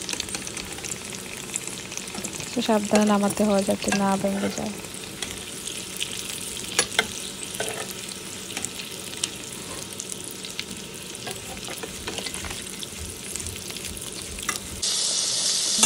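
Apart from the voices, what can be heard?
eggs frying in a pan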